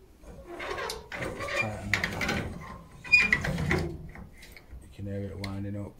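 Lever mechanism on an old door at an abandoned concrete plant winding up tight: close, repeated metallic scraping and clanking strains in bursts, ending with a sustained, tonal creaking groan as the mechanism tightens.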